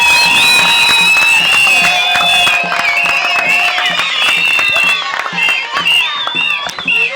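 A crowd gives a loud welcome to a speaker at an AADC gathering in Kipushi, clapping and cheering together with whistles and excited shouts over a steady roar.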